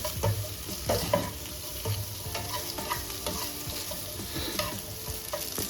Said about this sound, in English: I'm just sauteing it with the veggies so that it kind of gets a little warm.